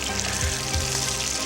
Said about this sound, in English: Don't crowd your pan when you're quickly sort of par frying this.